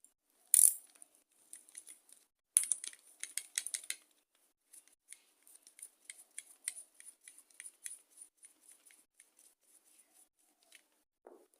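Two small 7mm screws are taken out of the bottom of a plastic Briggs & Stratton E series carburettor, with a few loud clicks, then a run of light metallic ticks and rattles close by.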